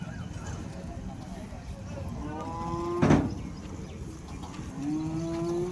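At a busy cattle market in Vaniyambadi, cows let out several drawn-out moos, one loud and close, while people talk and general crowd noise carries on underneath.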